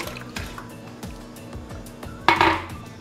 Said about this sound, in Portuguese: Vamos dar uma batida aqui nos ovos para misturar.